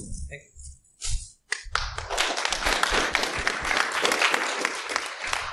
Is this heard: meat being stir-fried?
no